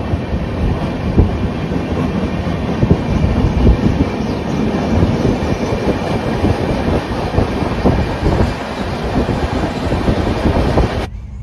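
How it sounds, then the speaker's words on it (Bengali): Steel Express running from Tatanagar toward Howrah meets the Purushottam Express of the Puri–New Delhi route at Asangarhi, a loud, continuous rumble and rattle of passing carriages close by that cuts off abruptly at the end. "আসানগড়ির এখানে এই যে ট্রেনটার সঙ্গে আমাদের মিট হলো, এটা হচ্ছে পুরুষোত্তম এক্সপ্রেস"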